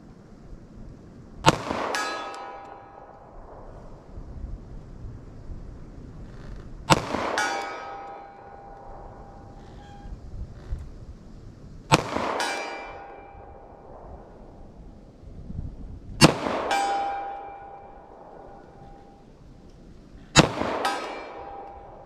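Pistol fired with .45 ACP+P ammunition at steel targets: five single shots spaced several seconds apart, each a sharp crack followed by a ringing metallic clang that hangs briefly, heard from a moderate distance in quiet surroundings.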